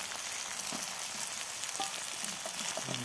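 Chinese chives (bawang kucai) stir-fry in a hot pan outdoors under oil palm trees, with a dense steady sizzle and occasional scrape of stirring throughout, close and loud, no voices.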